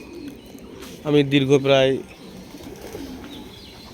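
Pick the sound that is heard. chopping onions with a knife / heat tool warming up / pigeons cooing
pigeons cooing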